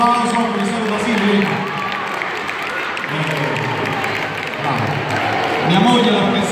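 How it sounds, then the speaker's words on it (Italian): A crowd claps steadily for a teacher at an Italian school event, with a voice speaking Italian over the applause near the start and again at the end. "Un grosso applauso, professor Basile."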